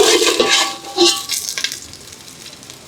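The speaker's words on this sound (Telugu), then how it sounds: "ఆనియన్స్ కూడా దోరగా వేయించి తీసేసుకుంటున్నాం" Onions fry golden in a pan for Ambur biryani, with bright sizzling hiss and stirring scrapes that die down toward a quieter crackle.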